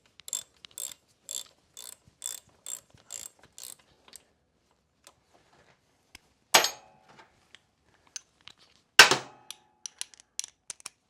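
Wrench work on the rear axle bolts of a Kawasaki 250 Ninja: a quick run of about eight evenly spaced ratcheting clicks, then sparse clicks and two sharp metallic clanks, close and fairly quiet with no talk.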